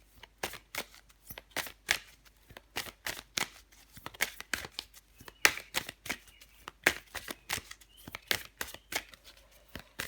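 Tarot cards being shuffled and drawn: a rapid, steady run of crisp card slaps and riffles, close and fairly loud, with no voices over it.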